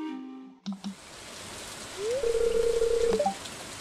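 Steady soft rain falls in the farming game Stardew Valley, a continuous faint hiss behind a short melodic in-game chime tone, with no voices.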